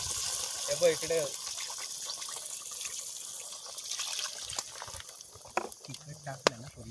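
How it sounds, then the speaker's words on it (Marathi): Water poured into a goda masala chicken curry cooked outdoors on a Konkan hillside plateau, a gushing splash heard between bursts of nearby talking. "हे बघा असं पाणी ओतून घ्यायचं"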